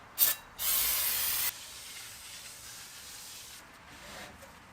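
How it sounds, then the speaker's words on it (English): A short, loud burst of brake cleaner aerosol sprayed onto a new StopTech brake rotor on a BMW, hissing for about a second before trailing into quiet background noise. "we'll do a wipe down with brake clean just to make sure we get all the contaminants off this rotor"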